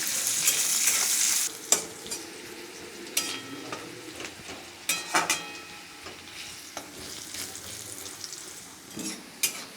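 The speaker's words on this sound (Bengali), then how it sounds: "এটাকে আমি বেরেস্তা করে ভেজে নেব" Thinly sliced onions frying on high heat for beresta, a steady sizzle broken by scattered clinks and scrapes of a spatula against the pan, close and without speech.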